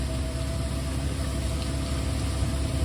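A continuous low tractor engine rumble drones steadily with no breaks, a heavy machine running close by while pulling a Lemken Karat cultivator in snow.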